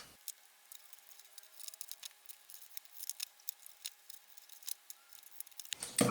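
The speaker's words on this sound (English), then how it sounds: "we're going to cut notches, 2 notches on each side" Scissors snip notches into a paper treat box: a run of quiet, sharp clicks and snips repeating irregularly, faint and close, with a louder rustle at the very end.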